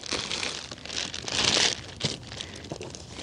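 Plastic packaging crinkled and pulled off a Drive Medical Scout 4 mobility scooter seat, close bursts of rustling and crumpling with a louder tearing swell in the middle.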